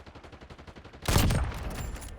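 Gunfire in Warzone: after a soft rhythmic patter, a sudden loud burst of rapid automatic shots erupts and keeps rattling densely to the end, close and with no talking.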